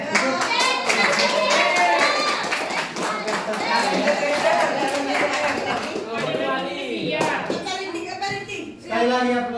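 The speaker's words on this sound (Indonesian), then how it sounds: "Sekali lagi aplaus buat Ella" A class of Indonesian students claps for a classmate in a classroom, a burst of brisk, close applause with kids' voices and chatter mixed in, tapering off as the teacher's voice comes through near the end.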